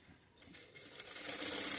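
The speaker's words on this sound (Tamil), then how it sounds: "இப்போ இந்த ஓரத்துலேயே பார்த்தீங்கன்னா நான் தையல் போட்டு வரேன்" Sewing machine stitching along a folded cloth edge, a rapid close mechanical patter that builds steadily louder over a couple of seconds.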